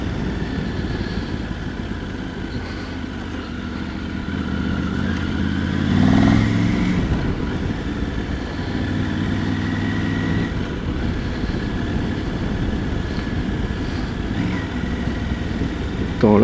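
A Triumph Tiger 900 GT Pro's engine drones steadily while riding in fourth gear around 2000 rpm, with a brief swell in the middle as the quickshifter is tried. The close, continuous engine note carries no talk over it.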